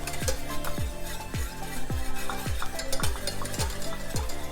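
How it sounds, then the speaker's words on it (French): Lemon cream being stirred in a pot over the heat, with a steady rhythmic scrape about every half second against a soft sizzling bed, close and continuous, no voices. "Toujours bien mélanger sur le feu pour éviter que justement le liquide n'accroche dans le fond."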